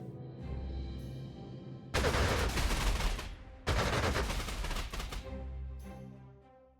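Gunfire attacking an enemy fighter plane in the Panzer Corps 2 strategy game, two loud bursts of rapid machine-gun fire each lasting about a second and a half, with a short gap between them and quieter ambience before and after.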